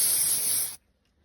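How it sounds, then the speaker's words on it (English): A short, loud hiss of aerosol developer spray lasting under a second, then cutting off to near silence, during dye penetrant inspection of an Austin 7 crank and con rods. "We'll give it another spray of developer"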